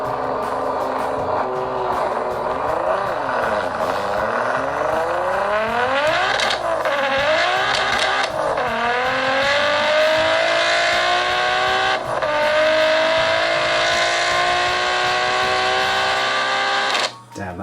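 A Toyota sports car engine revs up and down repeatedly through rising and falling pitches, with tire squeal, heard at moderate volume as if played back through a Samsung Galaxy J5 2017 phone speaker.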